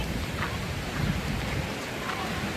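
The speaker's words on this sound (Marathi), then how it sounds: "पाऊस बघा काय खतरनाक पडतोय." Heavy monsoon rain pours down near a waterfall, a dense continuous hiss of drops on surfaces filling the whole stretch at steady loudness, with no talk over it.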